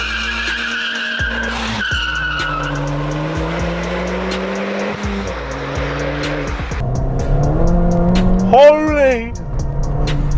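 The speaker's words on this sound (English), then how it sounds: "I literally put my foot down in second then, and it got to like the red line so quick" Ford Fiesta ST with a stage 1 tune pulls hard through second gear to the redline, its engine note rising steadily under the cabin noise. A brief tyre squeal follows, and people talk and exclaim over the engine throughout.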